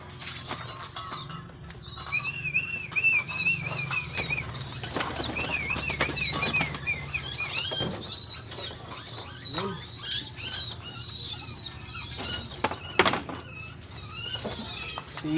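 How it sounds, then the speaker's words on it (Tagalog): Brown bar pigeons drink at a water feeder, with soft cooing, rustling and occasional wing flaps close by. Bright chirps and whistles are mixed in. "Inuman na mga kalapatids oh."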